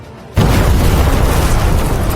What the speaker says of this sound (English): A cataclysmic explosion thundered across the arena as the lightning struck Ulus without mercy.